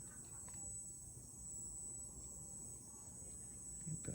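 Crickets chirp at night outdoors beside dragon fruit plants, a faint steady high-pitched insect trill running continuously over quiet background hiss.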